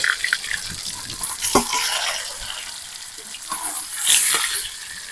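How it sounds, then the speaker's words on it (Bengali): Boiled potatoes fry in oil in a pan, giving a steady, bright hiss and crackle with a few louder spattering bursts, close up and without talk. "আমি এখন সিদ্ধ করা আলুগুলো খুব ভালো করে লাল লাল করে ভেজে নেবো।"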